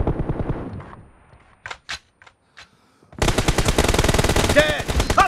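Gunfire in the battle royale shooter PUBG during a team deathmatch: a few sharp isolated shots give way to a loud, sustained machine-gun burst of rapid, close, echoing rounds.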